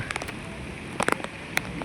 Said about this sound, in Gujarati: બાકી ધમધકોર વરસાદ જો